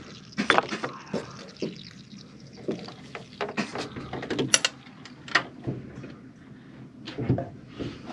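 A bleeding contraption works on the newly replaced clutch master cylinder of a Nissan Silvia S14, making irregular close clicks, knocks and small mechanical clacks with quiet gaps between them.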